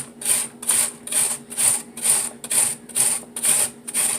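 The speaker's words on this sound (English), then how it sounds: "As your onion gets smaller, you just take it and turn it a different way" An onion is rubbed down the large side of a grater in eight even, rhythmic strokes, each a crisp, close scraping rasp separated by short pauses, alone and fairly quiet.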